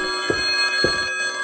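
A telephone rings continuously in a Vietnamese animated cartoon, a bright sustained electronic tone. Two soft low thumps sit beneath it.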